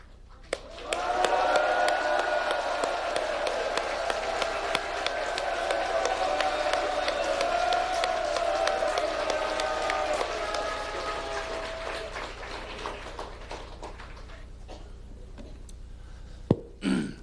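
Audience at a political party founding rally in Korea bursting into loud applause and cheering that holds for about ten seconds, then thins to scattered claps and crowd murmur.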